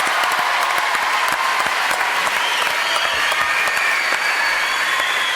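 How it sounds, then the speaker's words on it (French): Studio audience applause on a French TV show, dense and loud steady clapping from a crowd, continuous throughout with no talk. "Applaudissements, madame. messieurs."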